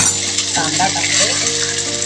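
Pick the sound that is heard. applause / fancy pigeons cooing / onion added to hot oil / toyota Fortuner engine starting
onion added to hot oil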